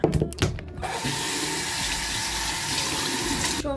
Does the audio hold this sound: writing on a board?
no